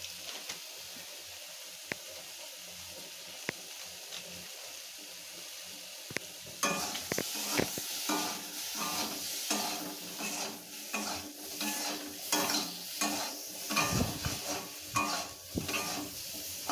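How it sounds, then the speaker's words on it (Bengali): Egg curry masala with chilli powder stirred in a frying pan: a few faint sharp ticks give way to a loud, continuous sizzle with repeated scraping strokes of a spoon against the pan, close, no voices. "ভালো করে নাড়তে হবে, দেখবেন একটা সুন্দর গন্ধ আসবে"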